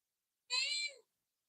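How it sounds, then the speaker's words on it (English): A pet cat gives a single short, clear meow of about half a second while trying to get into a room at night, heard alone against silence. "That's my cat trying to get in."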